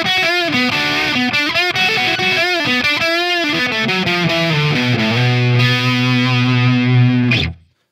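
An electric guitar plays a lead through a LovePedal Twin 60 boost pedal into a Marshall JCM 800 amp. A fast run of sustained, slightly driven notes settles into a long held note that cuts off abruptly at the end.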